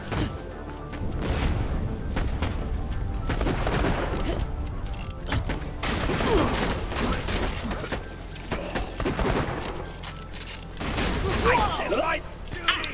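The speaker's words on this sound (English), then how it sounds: "This shotgun's so much better than that pistol." Shotgun blasts and chaotic combat in the video game Borderlands: The Pre-Sequel, heavy booming shots and thuds mixed with game noise, with people talking over the action.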